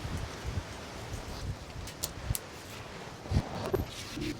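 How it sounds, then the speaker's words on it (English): Wind blows outdoors in a steady, blustery rush across the microphone, with a few brief gusts and light knocks rising out of the noise. "Kind of windy here."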